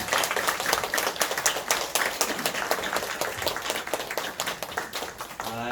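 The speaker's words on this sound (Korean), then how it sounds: "격려의 박수 한번 하도록 하겠습니다." A church congregation at a Sunday worship service claps in encouragement, steady rhythmic applause from many hands throughout, fairly soft and roomy.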